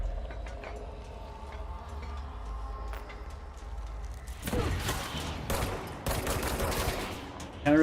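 Rapid-fire weapon gunfire in the game Control: after a quiet stretch of low rumble, loud rapid bursts of shots erupt, several clustered volleys in quick succession with brief gaps between them.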